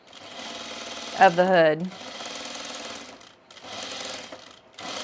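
A sewing machine runs in steady bursts while binding the center back seam of the hood on a sunblock top, with a short pause mid-way; someone talks briefly over the stitching.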